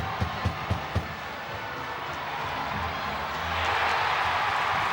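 A hockey arena crowd of about ten thousand roars as one fighter drops another, the cheer swelling loud near the end after a few sharp thuds, with a commentator talking over it.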